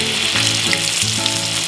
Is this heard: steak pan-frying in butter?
yes